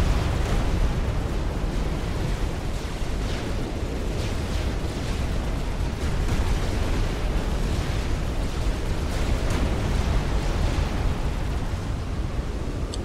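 Battleship shells exploding in the real-time strategy game Forged Alliance Forever, a dense, unbroken roar of blasts and rumbling booms at steady loud level throughout, with no clear gaps between impacts.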